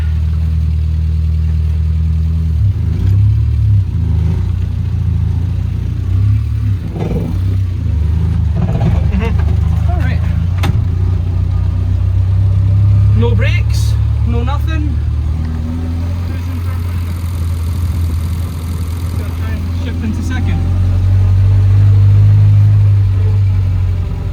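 A 1965 barn-find car, started after more than 40 years, runs with a steady rumbling engine close by, holding an even idle with a slight swell of revving near the end.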